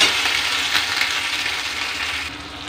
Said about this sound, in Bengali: আদাটা কষি, আদা গন্ধটা মেরে নেব।